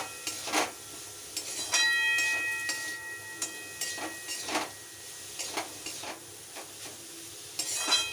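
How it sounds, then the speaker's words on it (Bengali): Grated teasel gourd (kakrol) being mixed by hand in a bowl, giving soft, uneven scraping and stirring strokes with occasional light clinks, close by and with no talking. "এই যে কাঁকরোল দুটো দিয়ে দিচ্ছি। এবার একটু মিশিয়ে দিই।"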